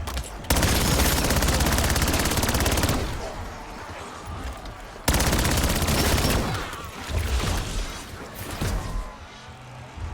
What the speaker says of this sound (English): Also, this is an SMG.